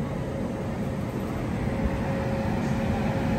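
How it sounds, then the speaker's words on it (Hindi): A WAP-7 electric locomotive from Visakhapatnam on the Konark Express gives a steady, loud, continuous rumble with a sustained tonal hum during a loco reversal, and no voices are heard. "तो चलिए मैं आपको दिखाता हूँ लोको रिवर्सल, विशाखापट्टनम का WAP-7 ये लोकोमोटिव।"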